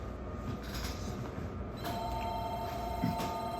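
A phone rings with an incoming call, its electronic tone sounding at low level from close by against a steady background hum, with no talk over it.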